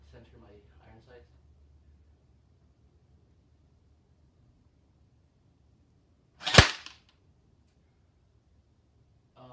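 A first AEG airsoft gun fires a single sharp, loud shot partway through, standing alone after some quiet background murmur at the start.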